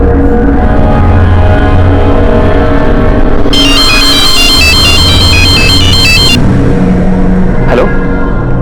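A mobile phone ringtone chimes loudly for about three seconds, a repeating bright melodic pattern over a steady low hum and background rumble.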